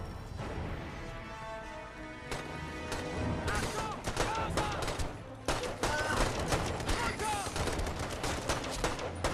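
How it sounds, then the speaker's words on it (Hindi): Assault rifle gunfire in the video game Brothers in Arms 3, dense rapid bursts of shots layered with game effects and music, building louder from the middle onward, with a voice talking over it. "उन लोगों को तो एसॉल्ट राइफल है भाई साहब, एकदम पूरा ही धड़ाधड़ बजाया जा रहा है।"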